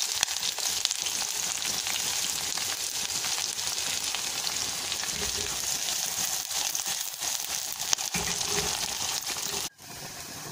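Onion and capsicum sizzle and crackle in hot cooking oil, a steady bright frying hiss with occasional stirring clatter.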